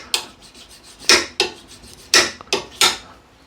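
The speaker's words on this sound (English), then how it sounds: "So that's just a few rubs, and what that is doing is pulling the metal past the bevel" A refiner scraper is rubbed flat against a metal edge to turn a burr, making about six quick, close, bright rasping strokes in an uneven rhythm.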